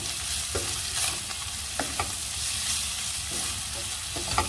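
Cilantro and parsley in a savory briouat filling sautéing in a pan, a steady soft sizzle with scattered light stirring clicks and scrapes throughout, close and moderately loud, no talking.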